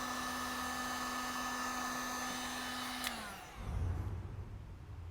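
A heat gun blows hot air over vinyl wrap on a Tesla Model 3 fender with a steady whining roar that winds down near the end, followed by rougher low rumbling handling noise.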